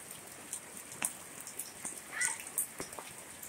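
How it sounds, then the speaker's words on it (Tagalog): Heavy rain falls steadily in a constant hiss, with scattered drops hitting a surface nearby, fairly faint and with no voices. "malakas pa ang ulan"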